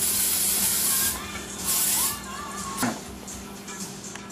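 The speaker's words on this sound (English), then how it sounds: "then I'm going to spray them with a little olive oil" Short hissing bursts from a spray nozzle misting olive oil onto clams, a few quick spritzes close up against a steady background hum.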